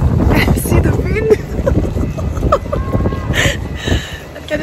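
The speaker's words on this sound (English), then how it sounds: "See the wind?" Gusty wind blowing outdoors on a cold, rainy day at an amusement park in Holland, a steady broadband rush buffeting the microphone throughout, with a person talking over it and faint background activity.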